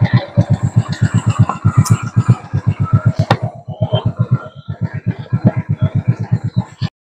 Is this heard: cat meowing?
no